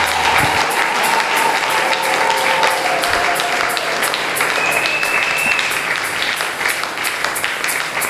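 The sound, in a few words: congregation applause in church service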